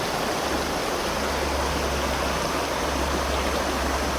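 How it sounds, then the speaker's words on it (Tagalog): A large river rushes in a steady, loud roar of flowing water that holds constant without a break, heard close with no voices. "Ang laki pala ito ng ilog na to."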